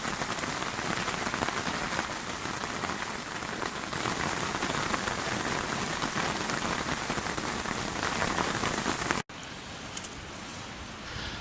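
Steady heavy rain pelts the surface of a river swim at night, a dense, continuous hiss close by that changes to a slightly different patter for the last couple of seconds.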